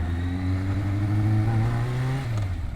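A motorcycle engine runs steadily in first gear while riding, a loud, close, continuous drone that rises slightly in pitch, then drops back as the revs ease off near the end.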